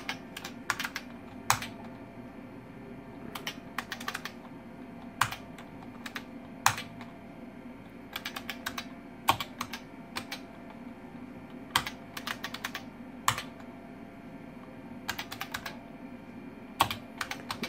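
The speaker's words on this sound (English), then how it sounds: "So we're gonna type all this stuff in." Keys clack on an IBM 5170 PC keyboard in quick bursts of typing separated by short pauses, crisp and close over a steady low computer fan hum.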